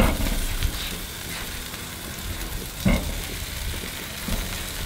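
Steady sizzle of cheese melting and buns toasting on a very hot griddle, a broad hiss under faint scraping, with one brief clatter midway and no talking.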